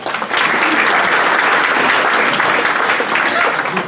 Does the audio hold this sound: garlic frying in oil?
no